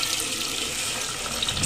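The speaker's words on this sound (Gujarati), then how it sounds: "તો હવે આપણે આમાં પાણી એડ કરી દઈશું" Water poured into a pot of soaked rice for pulao, a steady rushing splash close by, continuous and fairly loud throughout.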